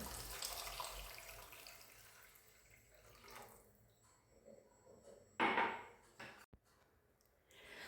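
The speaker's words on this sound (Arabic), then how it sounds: "ونزيدو كاس ماء" A glass of water poured into a simmering tomato sauce on a home stove, a brief close splash and gurgle of liquid after softer kitchen clatter, with no talking.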